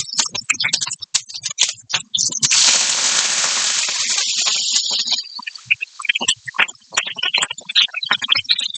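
Plantain slices dropped into hot oil in a fryer, a sudden loud rush of bubbling sizzle that settles into dense crackling and scattered sharp pops, preceded by quieter spattering.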